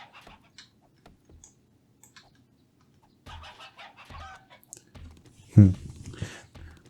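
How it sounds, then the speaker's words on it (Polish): A chicken in the survival game 7 Days to Die clucks in a short burst, loudest toward the end, amid sparse clicks and someone talking in the background. "O, no tu już jest kura, która po prostu prosi się o to, żeby została"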